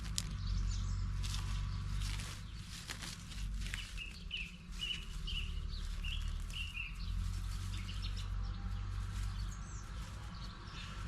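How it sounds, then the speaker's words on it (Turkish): Small birds chirp and tweet repeatedly in the distance over a low steady background rumble, with short bright calls scattered throughout. "Arkadaşlar kuş cıvıltıları altında."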